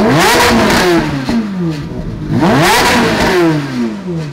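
A car engine revs up and down in repeated surges, the pitch climbing and falling twice, loud and close with no talking.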